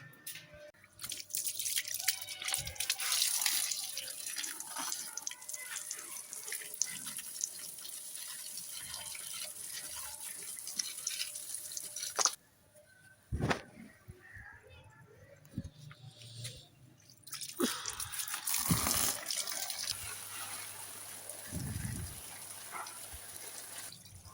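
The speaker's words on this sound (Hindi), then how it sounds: "अब थोड़ा सा गार्डन में पानी देती हूँ पौधों को।" Garden plants are watered, with bursts of splashing and dripping water coming and going between quieter stretches while someone talks.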